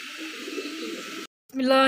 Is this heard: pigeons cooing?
yes